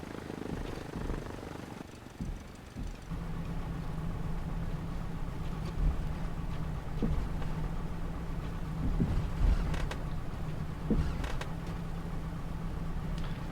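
A Cessna 172 piston engine idles at about 1000 RPM while taxiing off the runway in a flight simulator, giving a steady low drone with a constant hum throughout and a few faint clicks.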